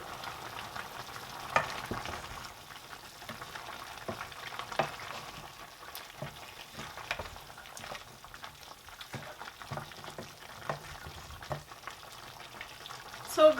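Meat for okra soup sizzles and fries steadily in a pot, a continuous close crackle broken by occasional stirring clicks and scrapes, with no talk.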